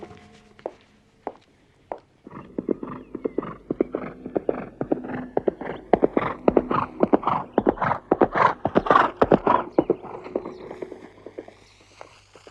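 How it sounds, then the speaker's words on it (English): A racehorse clip-clops steadily at close range, a quick dense run of hoofbeats building in the middle, with a short whinny near the end. "Beautiful horse."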